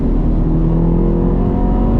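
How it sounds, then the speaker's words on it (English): The engine of a third-generation Honda Prelude with an H22 engine drones steadily and loudly up close, a low, sustained rumble that holds throughout as the car accelerates hard in first gear. "as soon as I accelerate in first, the car just takes off."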